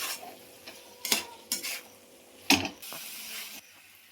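Whole chickpeas tossed into hot oil with cumin powder and a pinch of sugar, then stirred with a spatula in a pan: irregular scrapes and a few sharper clinks against the metal, close and unhurried, no talking.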